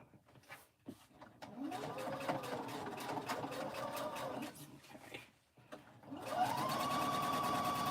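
A sewing machine stitching a pink baby quilt whirs in sustained runs, rising and falling in speed with a short pause midway, then speeds up to a steady high hum; the sound is fairly faint and heard alone.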